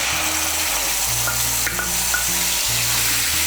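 A medium-sized portion of tomato paste sizzles in oil over tempered spices for a vegetarian Bengali lentil dish. A steady, close frying hiss runs throughout, with low humming tones underneath and no talking.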